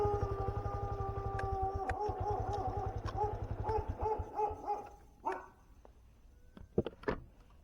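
A dog barks in a quick, rapid run of yips and woofs near a vehicle at night, then gives a few scattered single barks further off as the sound thins out.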